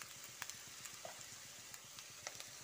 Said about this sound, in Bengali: আদা ও রসুনটা দিয়ে আরও কয়েক সেকেন্ড ভেজে নেব।